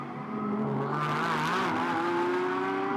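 Race car number 26 lapping the E-Town street circuit in Beijing during SRO GT Cup pre-qualifying, a loud, sustained engine note rising steadily in pitch as it accelerates, heard alone without talk.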